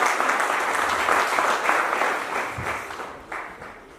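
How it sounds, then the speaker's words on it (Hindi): An audience claps together in sustained, dense applause, loud and steady at first, then gradually thinning and fading toward the end. "अगर मेरी आप तक बात पहुंच रही है तो बिना कहे ताली बजाना"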